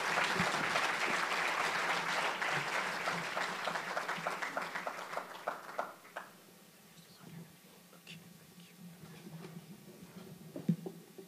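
An audience applauds to welcome Dr. Tariq Ramadan at a New Horizon event in Irvine, with dense clapping that thins into scattered claps and fades out.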